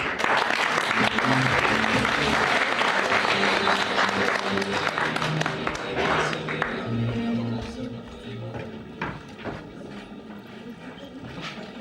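An audience at a school talent show claps loudly and steadily, the applause thinning into scattered claps toward the end, with voices heard over it.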